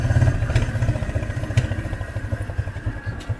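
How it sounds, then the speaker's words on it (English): Motorcycle tricycle carrying passengers and fishing gear through Subic Bay in the Philippines, its engine chugging in a fast steady pulse with rattling of the sidecar frame, loud and close throughout. "Rolling strong in the tricycle."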